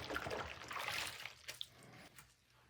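Plastic parts from an abandoned PS5 being scrubbed with a gentle paintbrush and soapy water, giving soft wet swishing and trickling sounds up close, with a few small taps and drips near the end.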